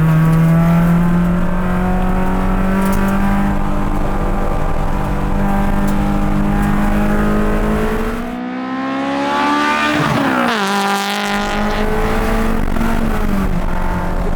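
Honda S2000 time attack car with wider tires, its engine revving toward an 8,500 RPM redline, loud and close from inside the cabin, a sustained rising wail that dips briefly around a gear change and then climbs again.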